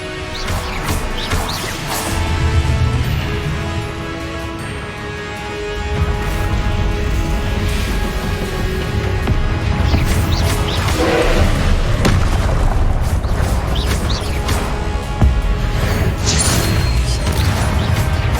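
Spell blasts and explosions from Hogwarts Legacy boom and crash continuously, a dense layer of heavy thuds and impacts with a deep low rumble building and persisting throughout.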